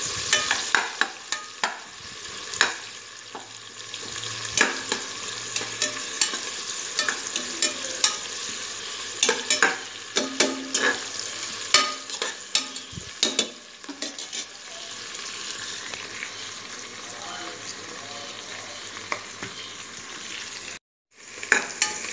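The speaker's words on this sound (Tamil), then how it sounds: "இது நல்லா ஒரு ப்ரௌன் கலர் ஆகிற வரைக்கும் இந்த வெங்காயத்தை வந்து வதக்கணுங்க." Onions sauté in a pan for a Tamil peas rice dish, with a steady soft sizzle broken by frequent scraping stirs and a brief gap near the end, close and alone without speech.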